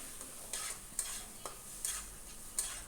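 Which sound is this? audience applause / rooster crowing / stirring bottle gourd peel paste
stirring bottle gourd peel paste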